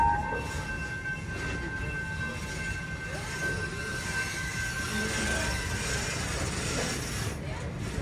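A theme park tour train at Busch Gardens rolls along steadily with a continuous rumble and faint wheel noise, and a thin whine runs through the middle.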